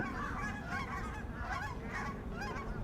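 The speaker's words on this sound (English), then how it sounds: "It's a whole colony of geese." A whole colony of geese honks repeatedly in a noisy flock, calls overlapping against rumbling background noise.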